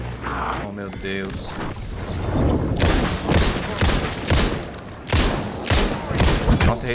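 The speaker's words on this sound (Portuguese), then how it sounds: "Nossa, errei todos os tiros." Gunfire in the video game Alan Wake 2: a rapid series of heavy, booming shots, about eight, loud and close, over a dense, continuous game soundscape.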